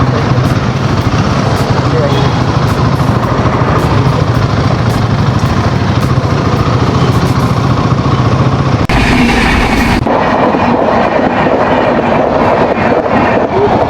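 A Konkan Railway train rolls past a level crossing on the Pune–Goa route with a loud, steady rumble and rhythmic wheel clatter up close. A brief burst of wind noise hits partway through.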